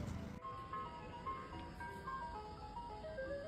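An ice cream truck plays its tinkling musical jingle at night, the tune repeating faintly and steadily beneath distant engine rumble and street noise.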